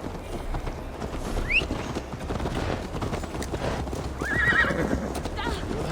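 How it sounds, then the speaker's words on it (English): Horse hooves clip-clop steadily while riding in the video game Assassin's Creed Valhalla, with a couple of clear neighs and whinnies rising over the hoofbeats; low ambient game sound sits underneath. "Mount up, Eivor. It's a long ride to Tamworth."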